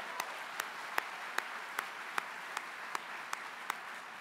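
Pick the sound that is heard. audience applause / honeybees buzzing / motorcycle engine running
audience applause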